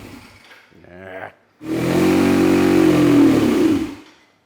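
Engine of an old motorcycle found abandoned behind a barn, loud and close, starting after a short scrape and a brief buzzing burst, then a sustained rev that rises and falls before cutting off.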